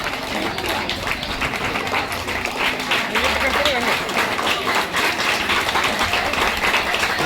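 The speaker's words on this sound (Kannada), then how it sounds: "ಅವರಿಗೆ ಕೂಡ ಜೋರಾದ ಚಪ್ಪಾಳೆ ಮೂಲಕ ಅವರನ್ನು ಬರಮಾಡಿಕೊಳ್ಳೋಣ" Applause at a government school event in Sandur welcoming a teacher, sustained clapping from a crowd running the whole time, under and between a voice over a loudspeaker.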